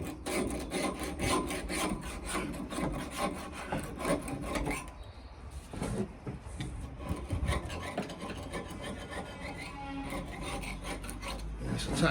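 A hand scraper works material off a surface during a narrowboat fit-out, making repeated close, gritty rasping strokes in a fairly steady rhythm with a brief pause midway.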